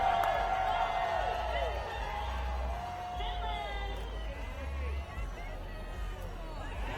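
Crowd noise from spectators at an ice climbing world cup lead final in Denver, a sustained roar of cheering and whoops with scattered shouts, loud and continuous throughout.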